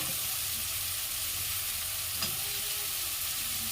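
Green chilli, capsicum and carrot stirred in a hot frying pan, giving a steady soft sizzle with a single brief scrape of the spatula near the middle; no one speaks.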